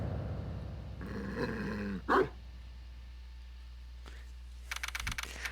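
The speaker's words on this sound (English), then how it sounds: "Demon dog!" A demon dog in the video game Ace Attorney Investigations 2 lets out a short, low growl amid game sound effects and music, followed by softer clicking noises.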